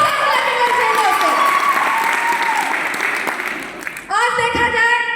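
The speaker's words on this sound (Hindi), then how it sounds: "तो जोरदार ताली होनी चाहिए दोस्तों।" Audience applause in a hall fills the clip, sustained and loud, with a brief dip near the end before the clapping swells again. Voices and a whistle-like tone rise over it toward the close.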